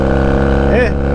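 Honda Rebel 250 motorcycle with loud exhaust pipes, a steady, close, rumbling engine drone that holds constant for a brief moment with a slight rise in pitch near the end.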